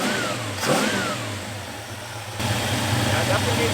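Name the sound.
1973 Plymouth Scamp engine running, first start since 2004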